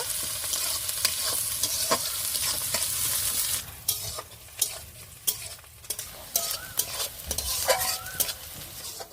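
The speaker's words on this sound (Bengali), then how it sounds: "মশলাটা একটু হালকা করে ভেজে নেব" Onion and spice paste frying lightly in a pan for an egg dish, with a steady sizzle and frequent sharp scrapes and knocks of a spoon stirring against the pan.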